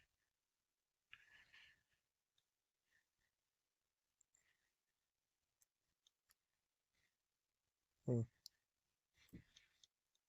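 Faint, sparse clicks of pins setting while a Corbin Russwin master ring lock is picked, spread across a quiet stretch, with short bursts of soft talk and one louder voiced moment.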